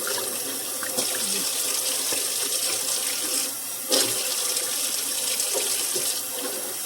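A kitchen faucet runs steadily into a sink as a drain strainer is rinsed. The water hiss is constant and fairly close, with brief splashes and clunks as the stream hits the drain.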